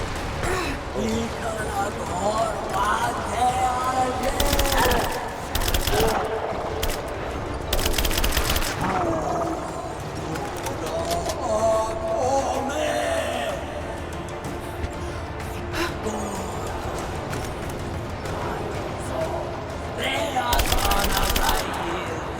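An AK rifle fires in Rise of the Tomb Raider during the Baba Yaga DLC, several loud rapid bursts of gunfire separated by pauses, with game music and someone talking over the action.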